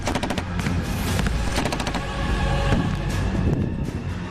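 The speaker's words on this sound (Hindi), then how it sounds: "हथियारों के साथ यूएस आर्मी के जवान बैटल ग्राउंड में बारूदी कोहराम दिखा रहे हैं" Gunfire from US Army troops on a battlefield exercise near Warsaw, Poland: a dense, loud, continuous barrage of shots with sharp bursts throughout, some rapid like machine-gun fire, over a steady rumble.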